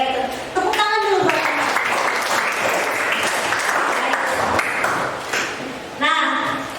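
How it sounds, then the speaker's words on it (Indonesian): Clapping in a biology classroom lesson, a sustained burst of group applause between short bits of voice and a ringing tone at the start and end. "Oke, tepuk tangan dulu."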